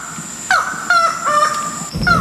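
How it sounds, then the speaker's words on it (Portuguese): Sharp, harsh calls of a newly discovered Amazonian falcon ring out in the Serra do Cachimbo, three or four loud, close descending cries with steady insect buzz underneath. "Nós estamos à procura de uma das aves mais raras do Brasil, o novo falcão amazônico"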